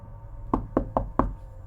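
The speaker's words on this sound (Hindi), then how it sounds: "अचानक कोई बाहर से विंडो को खटखटाने लगा।" Four sharp knocks rap on a pane of glass in an irregular rhythm, close and clear, with a quiet background and no voices.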